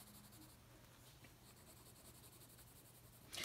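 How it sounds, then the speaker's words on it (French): A coloured pencil, held nearly flat, shades steadily across paper in a continuous soft scratching that stays faint and close, with no talk over it. "Et ensuite, je vais colorier, ma foi, tranquillement."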